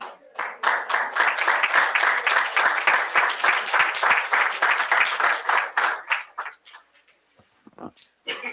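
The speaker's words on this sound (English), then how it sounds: "if we could have one more round of applause for Deputy Chatterson" Applause from a school board meeting audience for a deputy and parent volunteers: dense, steady clapping for about six seconds that thins into scattered claps and fades to near silence.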